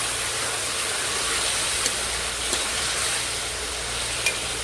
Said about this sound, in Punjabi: ਹੁਣ ਅਸੀਂ ਇਹਦੇ ਵਿੱਚ ਪਾ ਦਾਂਗੇ ਟਮਾਟਰ ਹਰੀ ਮਿਰਚ ਤੇ ਧਨੀਆ ਦਾ ਗ੍ਰੈਂਡ ਕੀਤਾ ਹੋਇਆ ਮਸਾਲਾ ਅਸੀਂ ਇਹਨੂੰ ਭੁੰਨ ਲਾਂਗੇ